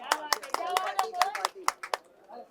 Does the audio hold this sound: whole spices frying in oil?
no